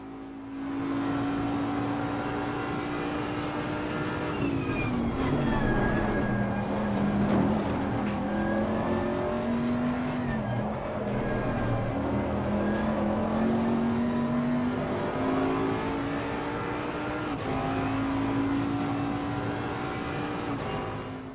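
Bentley GT race car engine in Assetto Corsa Competizione, a steady loud drone that rises and falls through gear changes and throttle lifts on a chicane approach, continuous for the whole stretch with no talk.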